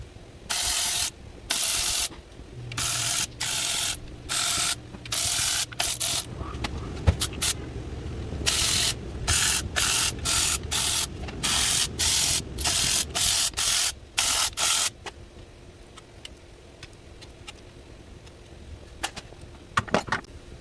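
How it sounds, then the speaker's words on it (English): A ratchet loosens valve cover bolts on a Hyundai Veracruz engine, in rapid bursts of sharp, close clicking separated by short pauses. The bursts stop partway through, leaving quieter handling noises. "So now I just have to remove all the bolts on the valve cover."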